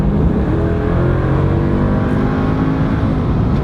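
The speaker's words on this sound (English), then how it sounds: "press the throttle all the way down" A car engine revs hard with the throttle floored, a loud, steady, dense roar close by that holds for several seconds without letting up, with no voices.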